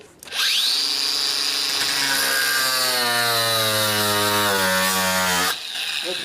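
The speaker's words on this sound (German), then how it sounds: "weil das ist eine Metallsäge, eigentlich für Metall" Metal hacksaw forced through material while building a bicycle, a loud sustained rasping cut with a rising whine that holds steady for several seconds before stopping abruptly.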